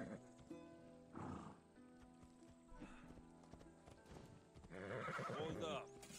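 A horse in the video game Assassin's Creed Odyssey trots with steady clip-clopping hooves and lets out loud whinnies, set against a busy game soundscape.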